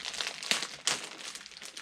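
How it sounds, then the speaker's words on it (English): Scissors cutting open a package of postcards: close crinkling of paper and plastic packaging with a couple of sharper snips, continuous through the short stretch. "I'm going to take my scissors and cut down the side."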